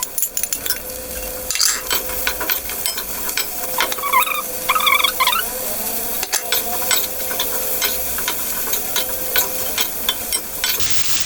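Vegetables fry in a pan with a steady, close sizzle while a utensil stirs and scrapes them, making frequent light clinks and knocks. No one speaks.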